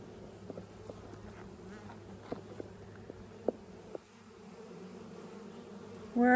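A swarm of Buckfast honey bees flies through a bee yard near a Layens hive, making a continuous droning buzz throughout with a few faint clicks and knocks over it.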